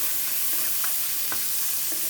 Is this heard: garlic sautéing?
yes